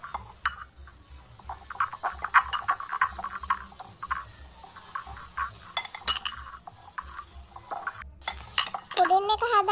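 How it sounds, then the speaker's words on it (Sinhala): Astra margarine being mixed in a bowl for biscuit pudding, a spoon scraping and clinking against the bowl in quick irregular strokes, close and fairly clear, with a brief high squeal near the end. "ඊට පස්සේ ඇස්ට්‍රා ටික මෙන්න මේ විදිහට හොඳින් මික්ස් කරගන්න ඕනේ."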